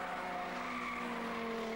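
A Rover Vitesse saloon race car in a 1991 road saloon championship passes close by, its engine droning steadily while the tyres skid and squeal through the corner.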